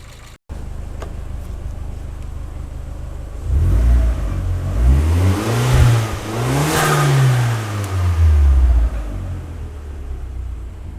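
A Fiat Panda fitted with a swapped-in Abarth T-Jet turbo engine starts up and revs, its loud rumble rising and falling through several throttle blips before settling back to idle.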